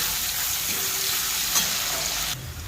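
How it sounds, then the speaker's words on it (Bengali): Onions fry in a pan until reddish, giving a steady, dense sizzle that holds evenly throughout with no talking. "পেঁয়াজগুলোকে আমি এবার লাল লাল করে ভেজে নেব।"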